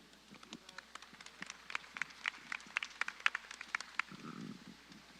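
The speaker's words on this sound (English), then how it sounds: "please, a warm round of applause for Mr. Kenneth Peterson" Audience clapping at a high school graduation ceremony in Cuajimalpa, a scattered crowd applause of quick crisp claps building over several seconds, heard at a modest distance in a hall with a low murmur underneath.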